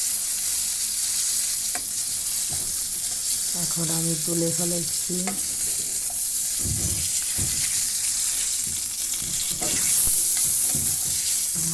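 Fish fries in a kadai, a continuous close sizzle with stirring clinks and splashy bursts, while someone speaks briefly over it.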